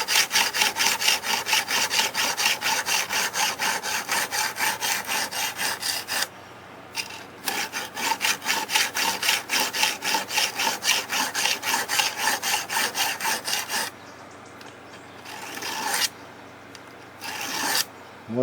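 Knife blade drawn repeatedly across the stone of a Ruixin Pro guided knife sharpener, a fast, even rasping scrape in steady back-and-forth strokes, close and loud, broken by a few brief pauses.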